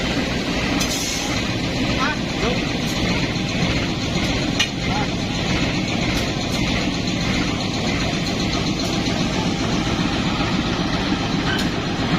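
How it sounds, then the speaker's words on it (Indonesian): Kutojaya Selatan passenger train with its locomotive attached, a 1994-built unit of the Kutoarjo depot, rolling along the southern line in a steady dense rumble of wheels and carriage noise throughout, with no clear talk over it. "lokomotifnya sudah dipasang, bersiap berlari menyusuri jalur kereta api lintas selatan"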